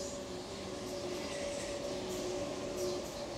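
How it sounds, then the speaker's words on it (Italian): A passing train on the line from Orte to Fiumicino near Rome rumbles steadily with a constant electric hum and faint squeals, loud and continuous throughout with no voices. "questo treno qui arriva praticamente da Orte fino a Fiumicino"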